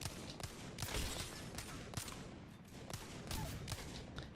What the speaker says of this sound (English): So now we're actually going to try shooting him.